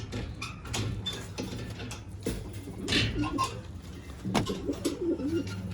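Pigeons kept in a loft coo in repeated low, throaty phrases across the whole stretch, fairly close, with occasional faint mechanical knocks and rustles around them.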